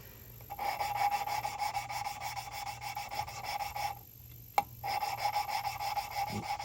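Gritty, rasping grinding of valve lapping on a Ford 302 engine's valve seat in steady back-and-forth strokes, close up, with a brief pause and a sharp tap partway through.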